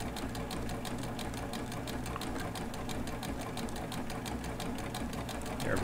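A serger runs steadily through fabric with a fast, even mechanical stitching rhythm, held close and continuous for the whole stretch before chaining off at the end.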